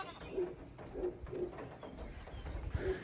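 Doves or pigeons coo repeatedly near a trail campsite on the Appalachian Trail, soft rhythmic coos close by over rain or wind noise.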